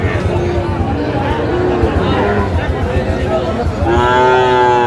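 Sahiwal cattle moo loudly at close range in Cumilla, Bangladesh, several overlapping calls with a long drawn-out low bellow near the end, over a background of crowd chatter.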